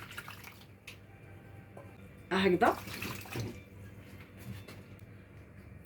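Warm water is poured onto moist semolina for matlouh bread dough: a brief splashing pour in the middle of a quiet kitchen, with someone speaking softly around it.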